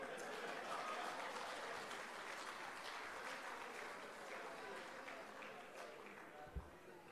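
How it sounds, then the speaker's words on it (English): A conference crowd at a Jamaican local governance conference applauds steadily, a dense wash of clapping that stays fairly loud throughout and tapers slightly near the end. "it is only reasonable that we applaud"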